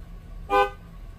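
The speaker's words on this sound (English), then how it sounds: "even when I honk" A single short car horn honk from a Chevrolet Silverado Z71 with a custom air bag setup, sounding loud and close, lasting about a quarter second, with a faint low background rumble and no talk.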